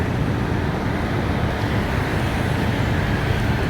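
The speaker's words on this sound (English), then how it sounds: "You can expect a lot of traffic, a lot of noise." City street traffic in Medan, Indonesia: a steady, dense roar of passing vehicles with no distinct breaks, loud and continuous throughout the short stretch, with no voices.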